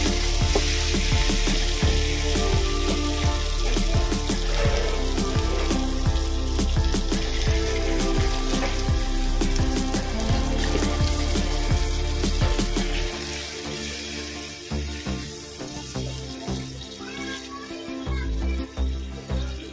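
Water poured into a hot pan of potol chingri masala, a Bengali pointed-gourd and prawn curry, sets off a loud, steady sizzle and bubbling that runs close and continuous before easing down toward the end.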